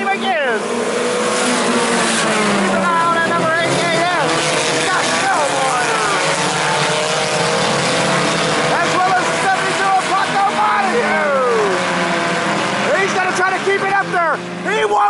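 IMCA Sport Compact race cars roar around the Salina Speedway track in a loud, continuous pack, engines rising and falling through gear changes with a commentator talking over the steady noise.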